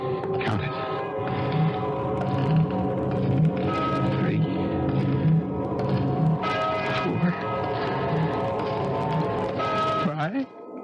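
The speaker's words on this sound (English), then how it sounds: "I heard the deep-throated bombs of a church bell striking the hour" A deep church bell strikes the hour, tolling repeatedly at a slow, even pace under a constant background rumble, with occasional higher noises over it.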